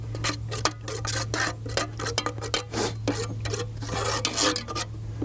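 Flour being stirred into melted butter in a Dutch oven, a scraping, rasping utensil working against the pot in irregular strokes with occasional clinks, over a steady low hum.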